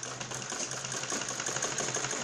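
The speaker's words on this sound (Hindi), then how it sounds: "बिल्कुल किनारी पे सिलाई लगानी है" A sewing machine stitches along the edge of a fabric neckline lined with buckram, giving a steady, fast mechanical whir with an even stitching rhythm, close and moderately quiet, with no talk.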